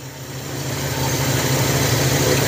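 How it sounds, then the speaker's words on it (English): A car engine fitted with a Quadrajet carburetor idles steadily, a close, loud continuous hum with no voices. "if we can't smooth that idle out anymore"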